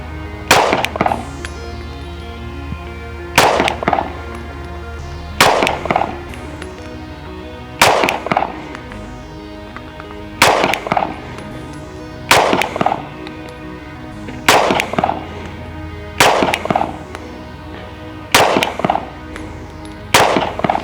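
Ten sharp pistol shots from a Shadow Systems CR920 ring out one at a time, evenly spaced about two seconds apart, each loud and close, with no talking between them.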